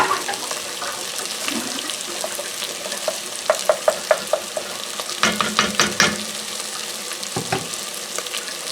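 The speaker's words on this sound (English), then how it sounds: "we're just going to cook this tomato paste for a few minutes until that tomato paste slightly darkens" Tomato paste sizzles in a pot with softened onions for a lentil shepherd's pie, a steady low frying hiss broken by sharp spoon scrapes and taps as it is stirred, close up and without talk.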